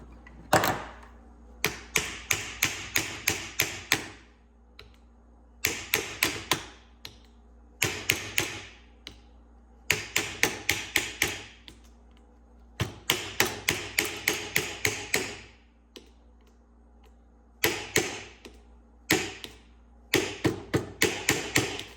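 A Ford fuel pump wired to a battery ticks and clatters in quick rapid bursts of about six to ten taps, separated by short silences, loud and close throughout.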